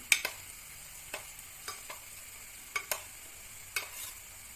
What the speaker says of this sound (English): So now putting the cauliflower to it for deep frying